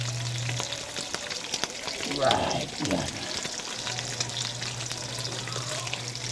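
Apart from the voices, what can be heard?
sautéing pork in hot oil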